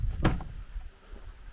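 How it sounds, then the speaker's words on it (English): The back door of a Toyota FJ SUV is opened at a campsite, giving one short, sharp latch clunk near the start, followed by a faint rustle. "Then we can open the back door"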